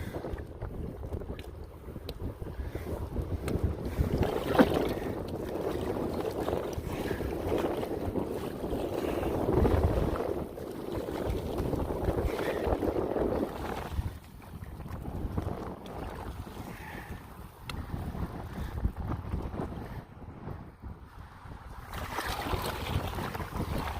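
Steady wind buffets the microphone in a continuous rushing roar on a Colorado river, with faint water lapping underneath and no voices.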